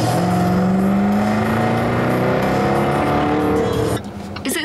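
A loud car engine roars steadily from inside the cabin, its rising drone filling the space, then drops off abruptly near the end as the engine note cuts back.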